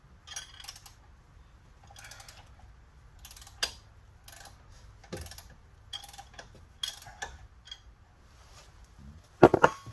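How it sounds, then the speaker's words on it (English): Quiet mechanical ticking and clicking from a 3/8 drive ratchet, extended with a wrench, working loose the rear brake caliper bolts on a 2011 Jetta 2.5. Sparse irregular clicks sit over low hum, ending in a louder clank. "I'm just using my 3/8 drive ratchet with a wrench on the end of it to get leverage"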